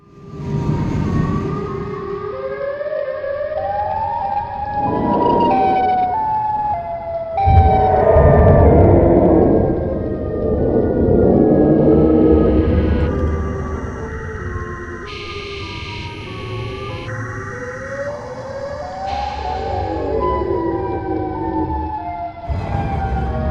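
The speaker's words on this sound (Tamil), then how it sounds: "சைரன் ஹெட் எப்படி கத்துது அதை வந்து நான் வந்து உங்களுக்கு வந்து சவுண்டை போட்டு காமிக்கிறேன்" The Siren Head creature's scream is a layered, eerie wail of overlapping siren-like tones that rise and fall, with warbling pitch sweeps and distorted horn blasts sustained throughout.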